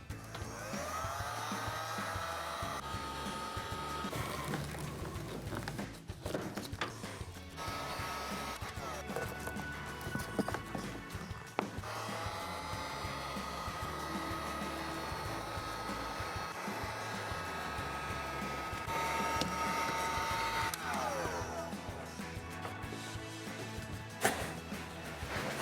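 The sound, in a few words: heat gun heating arrowhead seal on pop-up camper canvas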